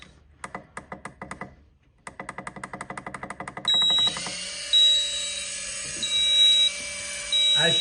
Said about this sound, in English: As you can hear, the alarm's gone off and it's flashing.